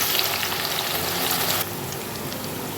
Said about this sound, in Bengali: ভাজবো মশলাটাকে।